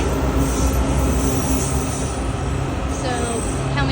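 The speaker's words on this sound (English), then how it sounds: "here comes the Shady Grove side train." A Metro Red Line train pulls into Brookland station on the Shady Grove side, a loud, steady rumble of wheels on rail with a rising metallic squeal near the end, close by.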